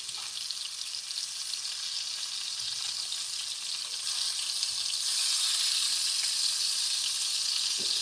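Onion frying in a hot pot, a steady close sizzle with a constant bright hiss that swells slightly louder partway through, with no talk.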